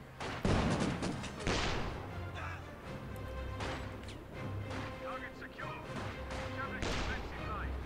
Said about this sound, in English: that infantry support gun is just doing a lot of damage to this